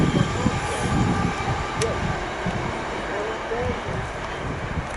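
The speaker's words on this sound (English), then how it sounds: "that was 66177 on the ballast train" A Class 66 diesel locomotive hauling a ballast train rumbles past at Keynsham, a loud, steady roll of wagons and wheels with a brief high squeal.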